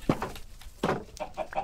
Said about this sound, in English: I like the chickens, because they're easy to see.